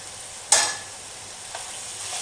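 Soaked vermicelli is stirred into a seafood sauce for mini seafood pastillas. One sharp scrape against the pan is followed by a fainter second pass, with a soft low sizzle underneath.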